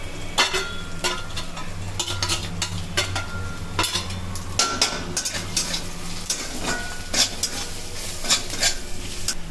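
Kashmiri chilli, turmeric, cumin and coriander sizzle in hot oil while a utensil scrapes and stirs the pan in steady, busy strokes, close and clear with no talk, during cooking of Bengali muri ghonto.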